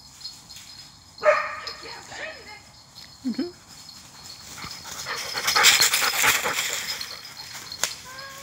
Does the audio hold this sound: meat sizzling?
no